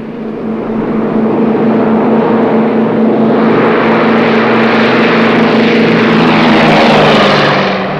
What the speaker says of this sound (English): There's my plane.